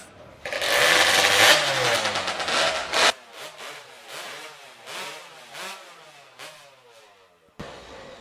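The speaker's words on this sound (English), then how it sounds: "Warm up your saws." Racing hot saws at a STIHL Timbersports Canadian Hot Saw Showdown warm up with a loud sustained engine roar, then drop into repeated sharp revving bursts, close and without talk.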